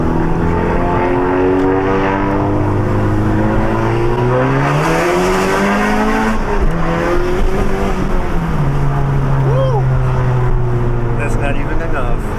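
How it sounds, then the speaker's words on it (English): Honda Civic Type R engine revving and accelerating on a drive, rising and falling tones climbing through gears, loud and close, with people talking over it. "we're about to take his Type R for a spin"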